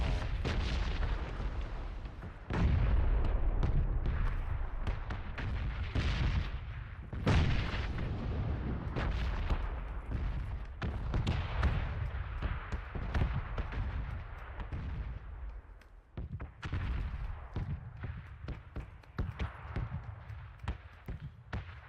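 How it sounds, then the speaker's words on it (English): Video game gunfire rattles out in a dense, continuous burst as a magazine is emptied, heavy booming shots stacking on one another at close range with no talking. "I'm gonna shoot 12 shots."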